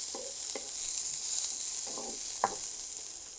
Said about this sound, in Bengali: কিছুটা পেঁয়াজ ভেজে নেব।